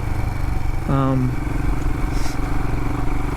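A Royal Enfield Himalayan motorcycle climbs uphill on a dirt mountain road, its engine chugging steadily up close with a brief rising whine partway through.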